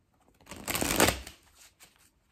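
A deck of cards is riffled once, a quick crisp burst of fluttering clicks that swells and fades, followed by a soft tap.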